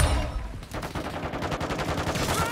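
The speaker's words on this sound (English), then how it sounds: "Taking effective fire." Rapid automatic gunfire in a multiplayer shooter video game during a hardpoint match, dense bursts of shots rattling continuously and loudly throughout.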